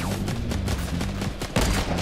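Rapid bursts of gunfire and booms fill a Fortnite match in which a sniper rifle is fired, with dense, overlapping shots throughout and a sharp loud blast near the end.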